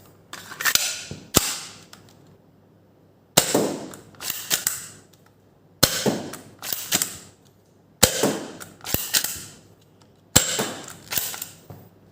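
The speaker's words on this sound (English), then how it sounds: "Yep, the slide locked back very nicely this time." A ZWQ S200 FireRat airsoft pistol fires in five sharp bursts of two to four snappy cracks each, separated by pauses, ending with the slide locking back on an empty magazine.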